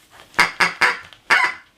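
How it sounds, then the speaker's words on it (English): A squeaky duck-shaped dog toy squeezed four times in quick succession, each loud, close honk rasping and goose-like, with brief pauses between them. "We also bought her this duck. Listen to the noise this makes."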